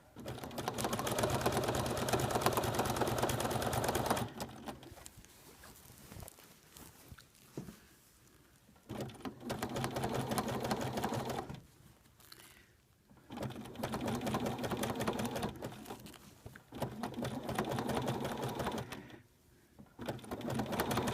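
A sewing machine stitches and quilts a community quilt in steady bursts of rapid, close-up needle chatter, pausing briefly between runs.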